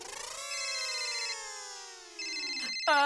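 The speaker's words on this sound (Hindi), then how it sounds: "मेरा फोन बज रहा है" A mobile phone ringing with an electronic ringtone: sustained, sliding melodic tones close and clear, dipping briefly before resuming.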